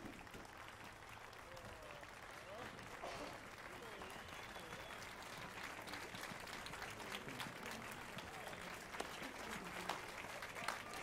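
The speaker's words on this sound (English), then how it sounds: "golf clap sounds about appropriate for that" A crowd in The Witcher 3 game applauds continuously for several seconds, a steady wash of clapping with voices mixed in.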